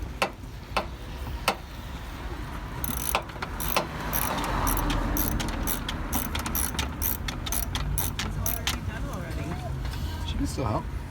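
A hand ratchet clicks in quick repeated strokes while tightening a battery terminal connection on a 2010 Subaru Forester, close by and steady, with people talking over the clicking.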